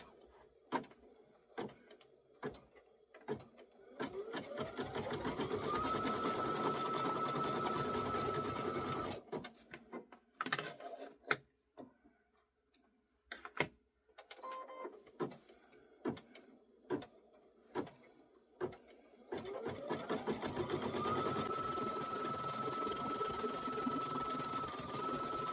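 An embroidery machine stitches in two long, steady runs at the start and end, with a quieter middle stretch of clicks, thumps and short mechanical bursts as the machine pauses and resets; no voices.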